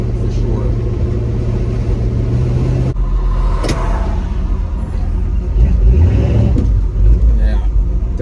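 A Chevy Nova car engine after a carburetor swap stumbles with a hesitation, then picks up and revs hard into acceleration, a loud rising rumble heard from inside the car, with people talking.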